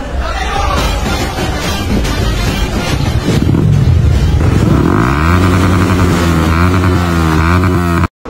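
A motorcycle riding along in the early morning around 6:30 in Tirunelveli, its engine droning steadily and loud with wind noise, pitch rising and shifting as it accelerates through gears, then cutting off abruptly at the end.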